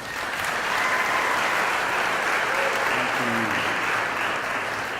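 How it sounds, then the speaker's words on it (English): An audience at a mentoring program kickoff for Kansas City Public Schools applauds the superintendent, steady sustained clapping from a crowd filling the whole stretch, loud and continuous. "Please give him a huge round of applause."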